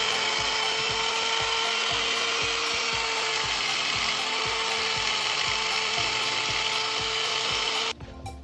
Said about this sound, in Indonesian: Kita potong menggunakan gerinda, kita ampas saja.